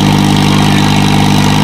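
A 2001-model New Holland tractor engine, fitted with a super seeder, runs steadily at a loud, close idle with a constant low drone and no change in pitch throughout.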